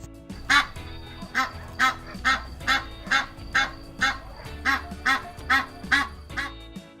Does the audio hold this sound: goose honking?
yes